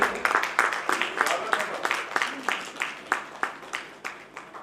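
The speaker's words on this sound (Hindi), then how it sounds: "तालियां बजाते रहिए सर" An audience at a Hindi poetry gathering's annual celebration applauds a guest stepping onto the stage, steady rhythmic clapping from a modest crowd, close and fairly loud, with a voice speaking over it.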